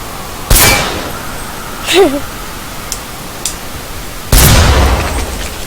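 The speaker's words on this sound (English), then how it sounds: "So you're going to want to shoot there." Shotgun firing at zombies in the Zombie TS video game, two loud sharp blasts a few seconds apart, with a brief voice sound and small clangs between them.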